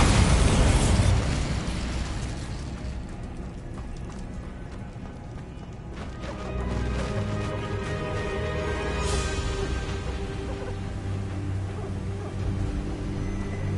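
A Bombarda spell explosion in the video game Hogwarts Legacy opens with a loud booming blast that rumbles away, followed by steady game ambience and scattered thuds.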